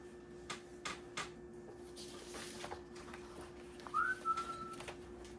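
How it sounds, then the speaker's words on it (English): A short, faint rising whistle sounds in a quiet space, preceded by a few soft knocks and light rustles. "a whistle."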